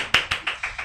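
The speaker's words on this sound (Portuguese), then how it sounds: "Uma salva de palmas!" A few sharp hand claps, about five in under a second, ring out close and evenly spaced as a guest, Dr. Débora Kerches, is welcomed onto a talk show.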